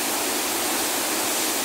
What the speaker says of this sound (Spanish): ahora está este río así, bravo, bravo